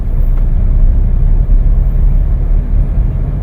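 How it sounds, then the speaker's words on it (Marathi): Maruti Suzuki Swift 2025 car accelerating from about 35 km/h, heard from inside the cabin as a steady low engine and road rumble that holds loud and even for a few seconds. "आता मी एक्सलेटर पेडल प्रेस करतोय"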